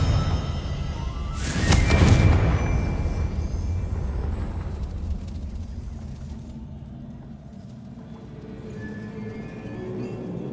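A Confringo spell explodes in Hogwarts Legacy: one loud burst near the start, then a long rumbling tail that slowly fades under steady ambient hum.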